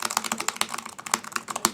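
Quick, uneven clicking of keys typed on an Anker Bluetooth mechanical-style keyboard, close and clear with no talk.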